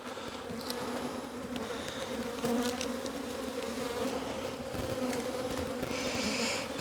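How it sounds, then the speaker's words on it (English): Dense, continuous buzzing of many bees around a hive during a box swap, close and steady throughout, a low droning hum with no voices. "So these bees don't know what's going on now."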